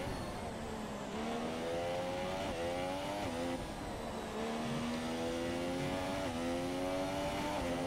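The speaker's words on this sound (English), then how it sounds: "As you listen to the V6 Mercedes engine in the back of that." A Mercedes V6 Formula 1 car engine in a racing video game, set at Australia, revs high and buzzes. Its pitch climbs through repeated gear upshifts, each followed by a short drop, steady and loud with no talk.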